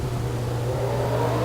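Race cars in a 1990s-themed stock car racing video game roll off at Pocono Raceway, a steady humming engine drone with a low, even pitch holding constant and slowly building in level.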